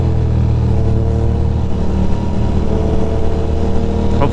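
A motorcycle engine drones loudly and steadily up close, holding a throaty mid-range rumble throughout.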